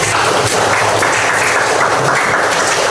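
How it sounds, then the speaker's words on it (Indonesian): Close, dense clapping from a classroom full of students fills the moment with steady, loud applause that stays even throughout. "Tepuk tangan dulu untuk Mediana"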